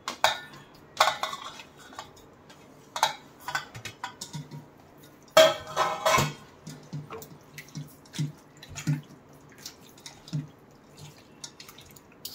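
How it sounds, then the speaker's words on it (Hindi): Marinade is stirred and mixed in a bowl with yogurt and spices, giving scattered clinks and scrapes of a utensil against the dish, with wet squelches and soft drips between quiet gaps. "सब इसमें मैरिनेट करके मिला के, यानी सब लपेट के"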